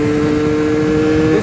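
A Euro 4 carbureted motorcycle engine idles steadily and close by, a constant droning hum holding one even pitch throughout with no revving, then cutting off abruptly near the end.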